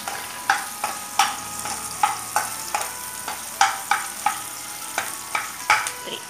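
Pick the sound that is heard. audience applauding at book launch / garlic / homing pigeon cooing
garlic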